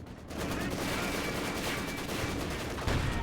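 Dense, continuous rattle of mounted machine gun fire during a Company of Heroes 2 battle, loud and sustained throughout with a thick wash of gunfire and no pauses.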